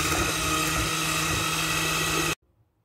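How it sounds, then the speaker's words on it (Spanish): An electric mixer beats coffee cookie dough in a bowl with a loud, steady, close whir that runs continuously and then cuts off abruptly, leaving near silence. "Y lo volveré a batir otra vez todo."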